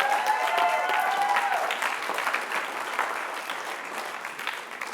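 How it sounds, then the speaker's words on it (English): Audience applause at a high school senior breakfast farewell, honoring a staff member: steady clapping from a crowd that holds loud and continuous, easing slightly toward the end, with a brief voice-like tone at the start. "So let's please give her a round of applause."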